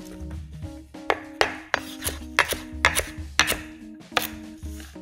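Knife chopping carrot with the skin left on and celery stalks into round slices on a board, a steady run of about a dozen crisp, close cuts at a brisk, slightly uneven rhythm with no talk.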